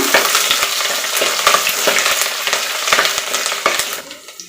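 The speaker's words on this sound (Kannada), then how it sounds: "ಬೆಳ್ಳುಳ್ಳಿ ಒಂಚೂರು ಫ್ರೈ ಆಗೋದು ಒಂಚೂರು ಬಾಡಿಸ್ಕೊಳ್ಳೋಣ." Garlic cloves and curry leaves frying in hot oil for an Udupi kokum rasam, a loud, close, crackling sizzle with repeated sharp spatter pops that dies away at the end.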